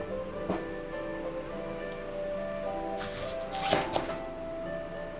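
A knife cuts into a bamboo shoot from the outer side in a Japanese kitchen, giving a few crisp, close cutting crunches and scrapes over a quiet background.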